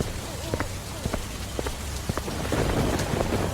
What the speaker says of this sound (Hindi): बारिश पहले के मुकाबले बहुत तेज हो चुकी थी।